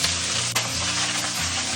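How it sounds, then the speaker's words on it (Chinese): Fish head and bones frying in hot oil in a wok over medium-high heat, a dense, close, steady sizzle with one brief dip, no talking. "油热以后，我们加入鱼头、鱼骨，保持中大火煎。"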